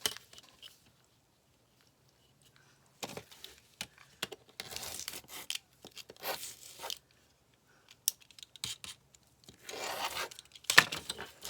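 A craft blade cuts off the edge of a piece of paper material in short, intermittent bursts of scraping and tearing, close and fairly quiet, with silent pauses between the strokes.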